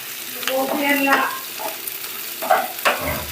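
Onions sautéing in a pan, sizzling close up while a utensil scrapes and stirs them in short bursts.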